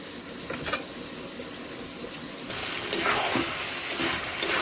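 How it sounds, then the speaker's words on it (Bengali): Hot water poured into a pot of mutton being cooked with whole garlic and onion gives a steady close splashing hiss that grows louder partway through, with no talk. "এর মধ্যে একটু গরম জল দিয়ে দিচ্ছি"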